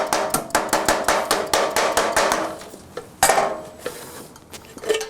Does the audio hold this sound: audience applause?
no